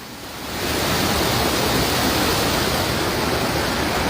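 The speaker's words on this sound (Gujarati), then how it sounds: "12 કલાક થવા આવ્યા, આ પાણી છૂટું જાય છે." An overflowing dam spills water in a dense, continuous roar that swells in during the first half-second and then holds loud and even, close by, with no one speaking.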